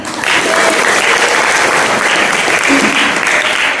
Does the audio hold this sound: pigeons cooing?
no